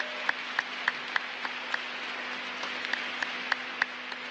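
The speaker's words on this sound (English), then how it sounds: "So if we can give them a round of applause." Sparse applause from a small audience at the 2018 IWRF Wheelchair Rugby World Championship, steady crowd hiss with a faint hum and a handful of separate loud claps popping out at an even rhythm.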